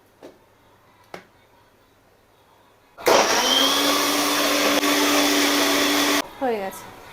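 A small jar blender grinds ginger, garlic and green chillies in one loud, steady whirring burst of about three seconds that cuts off abruptly, followed by a brief lower spin-down, with a couple of faint taps beforehand.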